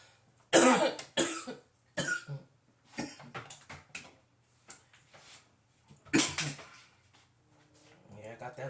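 Repeated harsh coughing bursts from a person smoking, about six or seven fits spread unevenly, close and fairly loud, with quiet pauses and some throat noise between.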